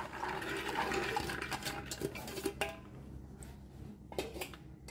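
Soaked black-eyed peas tipped into a pan while cooking, giving a wet clatter and patter of beans landing against metal, with scraping utensil clinks and splashy bursts through the first half, then quieter scattered clinks near the pan.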